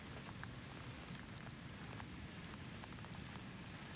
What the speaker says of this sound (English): A cold rain begins on Wednesday morning. It falls steadily, fine and sharp, tapping against the windows.